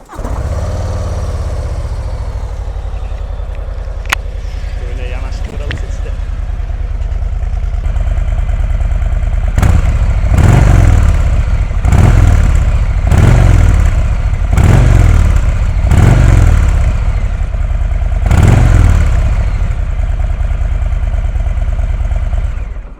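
A 2022 Harley-Davidson Low Rider ST with stock exhaust idles steadily, then the engine is blipped in a series of short, sharp revs, fairly mild and muted in tone.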